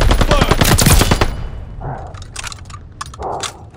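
Gunfire at a hardpoint in the Call of Duty Vanguard video game: a loud, rapid automatic burst is followed by a few scattered, quieter shots and distant combat noise.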